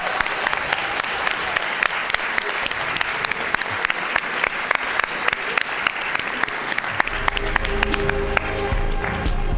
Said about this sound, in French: j'aimerais qu'on fasse un tonnerre d'applaudissements pour toute l'équipe technique du studio et du 40